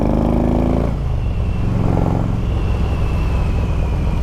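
A Harley-Davidson CVO Road King motorcycle with 100k miles and a six-speed transmission rumbles loudly up close, its engine pitch shifting early on before settling into a steady, throbbing idle.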